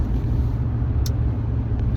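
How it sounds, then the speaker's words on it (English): Low, steady road rumble and engine drone from inside a moving car, close and continuous, with a brief faint tick partway through. "So I'm driving in the car here"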